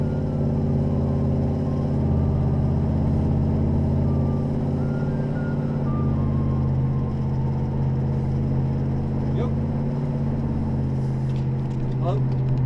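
Road traffic on Rockville Pike rolls past close by as a loud, continuous rumble of trucks and cars, with a short beeping near the end.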